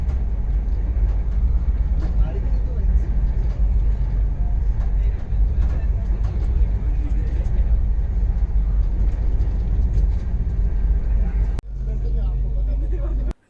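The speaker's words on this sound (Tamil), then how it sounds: "ஆக்ராவுக்கும் டெல்லிக்கும் இடையில் வந்து ஒரு ஸ்டீல் ட்ரெயின் போச்சு" A Jindal steel freight train rolls past between Agra and Delhi, a loud, steady, continuous rumble that holds for about eleven seconds before cutting off abruptly into quieter background noise.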